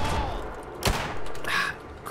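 A single sharp gunshot rings out in Fallout 4, a loud crack in the middle of muffled game ambience.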